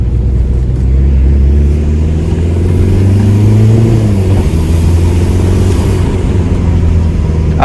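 A 28-year-old VW Golf 3 with its original 1.9 TD turbo diesel is revved hard, very loud and close, its deep rumble climbing in pitch then easing back, with no talking.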